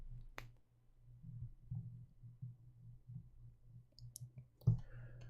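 A couple of sharp mouse clicks in quiet room tone with low steady hum, one near the start and one louder click toward the end.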